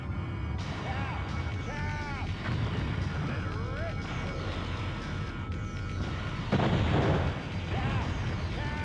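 Explosions and gunfire boom through dense, continuous combat noise in the flight video game Top Gun: Fire at Will, with a louder blast swelling near the end.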